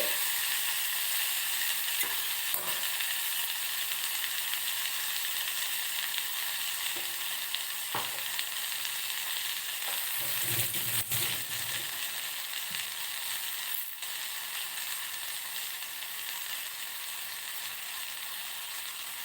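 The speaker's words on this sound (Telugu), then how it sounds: "వేసి బాగా వేయించాలి" Ingredients sizzle steadily in a pan for Udupi-style rasam, a soft continuous frying hiss broken by a few faint clinks and stirring scrapes.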